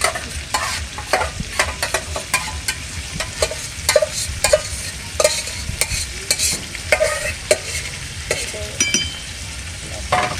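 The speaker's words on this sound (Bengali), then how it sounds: "হালকা নেড়ে একটু ঢেকে দেব।" Mutton and spices frying in a pan while being stirred for fried rice and goat curry, with a steady close sizzle broken by repeated scraping clicks of the spoon against the metal pan.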